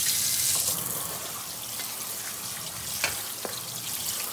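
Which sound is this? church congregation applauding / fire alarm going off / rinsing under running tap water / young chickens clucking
rinsing under running tap water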